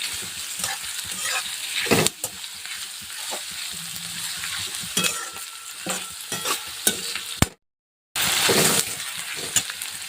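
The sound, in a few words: chopped onions frying in a pan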